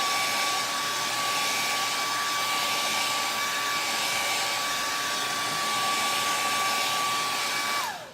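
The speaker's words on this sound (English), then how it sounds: "I'll hit it with the blow dryer a little bit to help heat seal it" Blow dryer heat sealing a craft transfer for a felt flower welcome sign, a steady loud whooshing whine running continuously for about eight seconds before it is switched off and winds down at the end.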